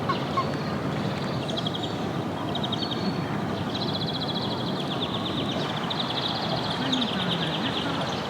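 Ducks call in short repeated quacking bursts beside a river, moderately distant over a constant rushing background of flowing water, with no talking.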